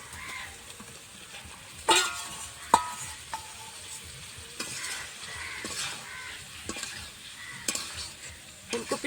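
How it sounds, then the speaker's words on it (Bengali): Fried cauliflower pieces cooking in a spice masala in a pan, a soft continuous sizzle with occasional spoon clinks and stirring scrapes against the pan, close by, no voices. "দিয়ে আবারও কিছুক্ষণ ভেজে নেব"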